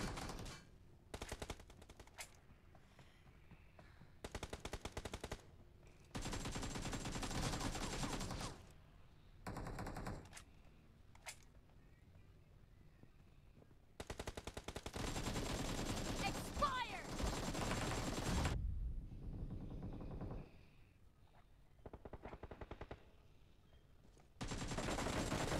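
Rifle fire from an M24 in a team deathmatch video game, loud bursts of gunfire coming in separate blocks with quiet gaps between them, no talk over it.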